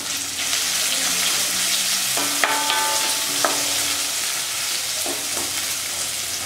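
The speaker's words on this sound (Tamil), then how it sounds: "இப்போ நறுக்கின வெங்காயம்," Chopped onion frying in oil with garlic and dried red chillies for Tamil mango rice, giving a loud constant close sizzle with a few metallic stirring clinks.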